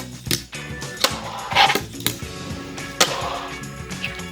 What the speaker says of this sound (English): Not a bad 3-flip nose blunt right there